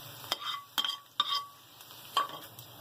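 Golden fried onions are stirred in a pan, with several sharp scraping strokes of the spoon against the pan over a faint sizzle and no talking.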